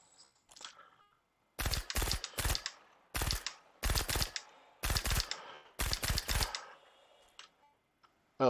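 A Gemini C54 submachine gun in Star Citizen fires short bursts of three or four sharp cracks each, separated by brief pauses, loud and close.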